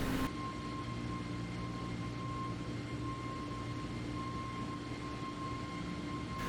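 An aircraft in a Microsoft Flight Simulator replay flyby, with a steady engine drone and a sustained whining tone held constant throughout, moderately quiet with no voices.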